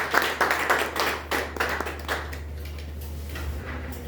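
An audience's round of applause greeting Toastmaster Farooq Siddiqui at a Toastmasters club meeting: dense clapping near and loud at first, thinning into scattered claps, with a low steady hum beneath.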